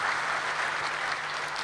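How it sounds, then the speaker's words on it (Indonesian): A church congregation clapping together during a sermon, a brief dense burst of many hands applauding at moderate distance, steady and even with no voices over it. "Kasih tepuk tangan buat Tuhan kita."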